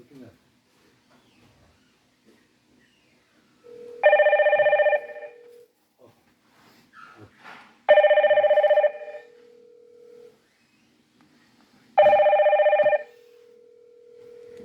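A Hikvision intercom's chiming electronic ring sounds three times in long, evenly spaced bursts, fairly loud, with faint background noise and small clicks between rings.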